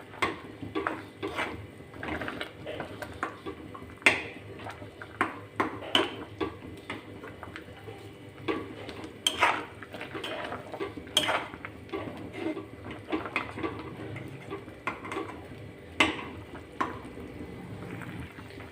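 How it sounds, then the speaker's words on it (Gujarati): A metal spatula pressing and breaking up a rotla in a pan for a Kathiyawadi-style tempered dish, giving repeated sharp clinks and scrapes in an irregular rhythm, close up against a quiet background. "આ રીતે તાવીતાની મદદથી આ રીતના આપણે પ્રેસ કરીશું જેથી રોટલો અંદર સરસ એવો કટિંગ થઈ જશે"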